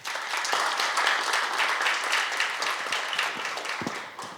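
An audience at a forum discussion on public-private infrastructure projects claps in sustained applause, a dense steady patter that tapers slightly toward the end, with a brief voice near the close.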